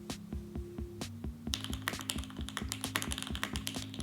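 Quick, crisp keyboard typing, a few scattered key presses at first, then a fast steady run of clicky keystrokes, close and clear.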